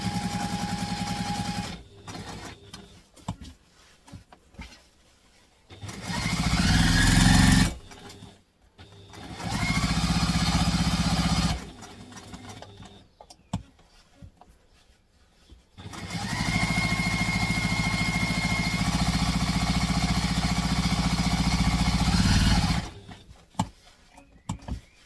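A sewing machine stitches backpack pieces together around the seam in long, loud, droning runs separated by quiet pauses and short stuttering starts, heard up close.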